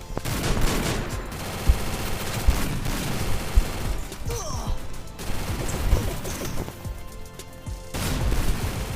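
Gunfire in the Free Fire battle royale game crackles through a busy mix, with occasional sharp shot peaks over constant loud game noise and no talking.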